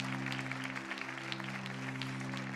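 Applause from a church audience during a sermon, a steady dense patter of clapping with a low sustained hum running underneath throughout.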